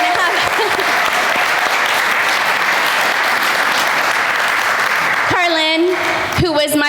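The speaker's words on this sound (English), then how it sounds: "we already did an applause, but we need one more" A church audience applauds the vacation Bible school volunteers, steady dense clapping held loud for several seconds before fading into a voice speaking at the end.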